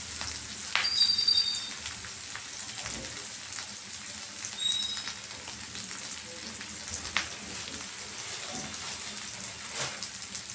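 Chana dal frying in a pan gives a steady, close sizzle with crackling pops and occasional stirring scrapes, running evenly throughout with no talk over it.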